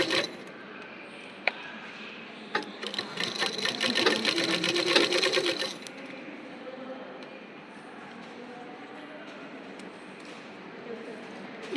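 Sewing machine rapidly stitching a nighty in a quick burst of a few seconds, a close mechanical whirr-clatter, followed by quiet room tone.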